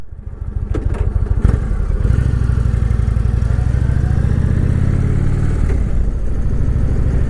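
Motorcycle engine running loud and steady as the bike rides along at speed, a continuous mid-pitched drone with mechanical clatter and a few brief transients, no voices.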